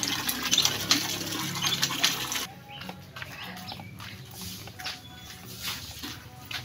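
Water runs and splashes loudly for the first two seconds, then drops to a quieter trickle with scattered small drips and outdoor background sounds.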